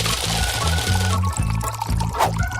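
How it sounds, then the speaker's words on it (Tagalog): Sugar and water go into a saucepan with a soft pouring, trickling sound, while a low rhythmic musical beat plays underneath. "Asukal at tubig. Ilagay ito sa kaserola."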